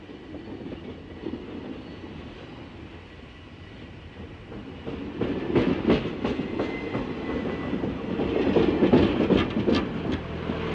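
A large steam locomotive train rumbles along steadily, with rhythmic clacking and clatter growing louder partway through as it rolls closer.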